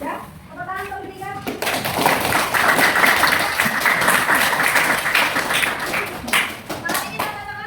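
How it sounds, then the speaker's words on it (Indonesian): Sixth-grade schoolchildren in a maths classroom clap together in a sustained burst of applause, with children's and an adult's voices heard before it begins and over its tail. "tepuk tangan untuk bertiga"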